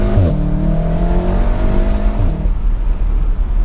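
A 2016 VW Golf R with DSG gearbox and 4Motion all-wheel drive accelerates hard, its engine note climbing loudly through one gear, dropping at a quick shift and rising again, close and dominant with no talk.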